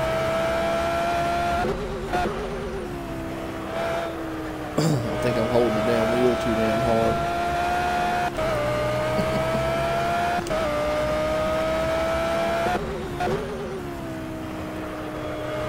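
Ferrari 458 GT3 race car in the Project Cars racing game, its engine droning steadily at high revs with repeated sharp gear-change dips and rising pitch sweeps, a voice talking over it.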